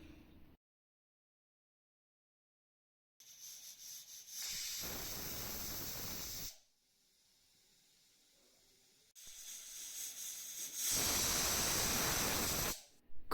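A pressure cooker holding soya pulao lets off two bursts of hissing steam, separated by a few seconds of silence. Each burst rises into a strong, sustained hiss.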